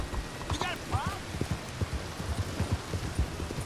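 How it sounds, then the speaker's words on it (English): Heavy rain in the video game Red Dead Redemption 2, a steady patter of drops with rhythmic horse hoof clops and a few brief whistling calls. "It's pouring down rain, jeez. I'm gonna get soaked."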